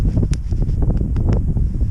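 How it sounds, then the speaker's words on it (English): Strong wind on Yocum Ridge in the Mt. Hood Wilderness buffets the microphone in a continuous low roar, with gusty rumbling and faint flapping or rustling throughout. "It's very, very windy."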